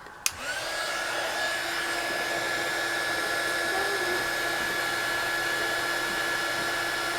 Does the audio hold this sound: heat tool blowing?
yes